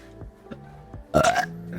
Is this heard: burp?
yes